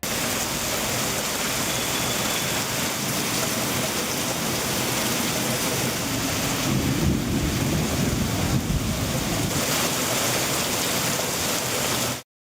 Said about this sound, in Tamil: சென்னை திருவொற்றியூர், ராயபுரம், தண்டையார்பேட்டை, எண்ணூர், மணலி உள்ளிட்ட பகுதிகளில் கனமழை பெய்தது.